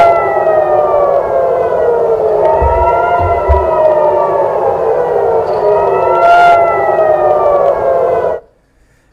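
A wailing air raid siren in Tel Aviv, Israel, sounding during Iranian attacks, rising and falling in long sweeps, loud and sustained for several seconds before cutting off abruptly.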